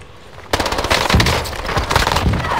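Machine gun fire in the Fortune Keep mode of a shooter video game: a sharp burst opens, then sustained rapid automatic fire rattles on, loud and close, with no voices.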